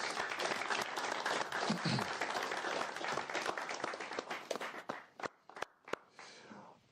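Crowd applause at a youth dialogue event rolls on dense and steady, then thins into scattered individual claps and trails off near the end.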